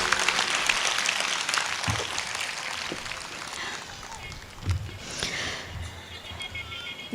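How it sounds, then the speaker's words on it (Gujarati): A crowd at a community gathering in Surat applauds steadily, a broad wash of clapping that stays fairly even and then eases off, with a voice speaking over part of it. "હવે વગાડો તાળીઓ"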